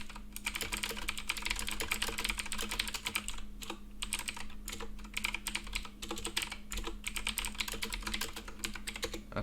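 Code is typed on a computer keyboard in quick, uneven bursts of close key clicks with brief pauses, continuing for about nine seconds with no talking.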